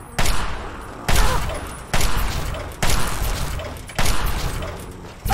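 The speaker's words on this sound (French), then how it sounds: "le nombre de balles qui passent à côté" Heavy gunfire bursts in Fallout 3, with bullets whizzing past, arriving as repeated loud volleys about every second, each a sharp crack trailing into a rattling decay.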